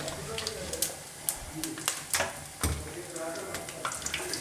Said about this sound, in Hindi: अब इसमें हम कीमा शामिल कर देंगे।